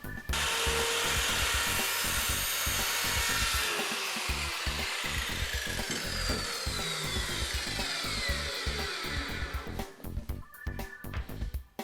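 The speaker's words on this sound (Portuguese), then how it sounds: "Vou só fazer o início da serra" A saw starting its cut into marked wood, a dense, continuous rasping of rapid strokes, close and loud throughout, easing slightly near the end, with no voices.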